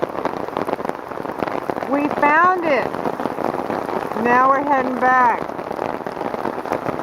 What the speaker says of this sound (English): I hear the pitter-patter of rain.